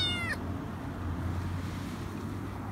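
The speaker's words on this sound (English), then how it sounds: "And there's a kitten on my leg." A kitten on a farm gives one short, high meow at the very start, close by, followed by a steady low background hum and rushing ambience with no further calls.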